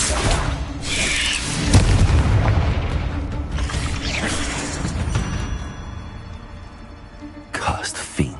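Fire spells detonating in the video game Hogwarts Legacy, heavy booming blasts and crackling bursts layered over game music and effects, loud and dense, with a closing flurry of impacts.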